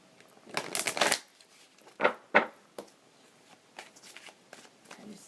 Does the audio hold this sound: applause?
no